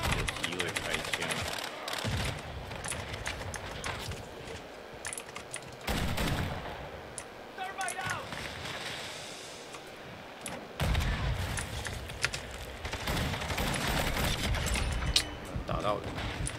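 Gunfire in Call of Duty: Modern Warfare II, including shotgun blasts, comes in several sharp bursts amid game noise, mixed with the clatter of a computer keyboard being typed on.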